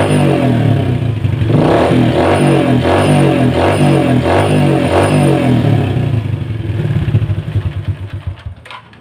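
A Yamaha Jupiter MX motorcycle engine fitted with a non-original cylinder block, running close by with a rough, rattling clatter in a steady pulsing rhythm, loud throughout and trailing off unevenly near the end.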